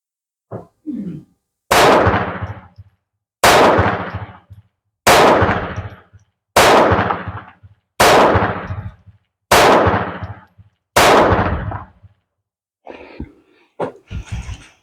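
Seven sharp pistol shots from a Zastava M70 7.65mm handgun, loud and close, spaced about a second and a half apart in a steady rhythm, with a couple of small handling noises before and after.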